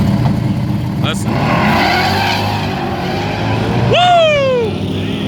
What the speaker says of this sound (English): that rev limiter not allowing him to get a good burnout won't hurt him on this one